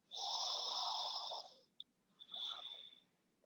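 Steady nasal breathing during an alternate nostril breathing exercise: one long, hissy airflow through the nose, a short pause with a tiny click, then a second slightly shorter breath, close and quiet, with no talking.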